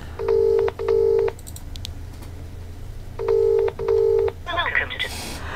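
A phone rings for an incoming call with two pairs of loud, clear double-tone rings separated by a short pause, followed by a brief clatter of handling.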